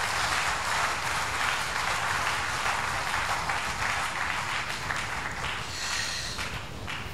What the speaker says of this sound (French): Nous acclamons pour lui.